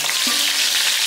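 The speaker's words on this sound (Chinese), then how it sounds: "再来把鱼头放下去煎。" A fish head frying in lard in a hot wok gives a loud, steady sizzle throughout, with no voices.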